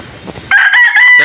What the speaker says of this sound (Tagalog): Ito yung tandang.